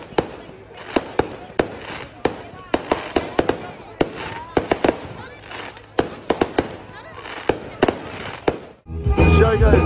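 New Year's Eve fireworks explode during a lightning storm, with many sharp bangs and crackling bursts coming in irregular clusters at mid distance. A crowd murmurs underneath, and a louder rumble takes over at the end.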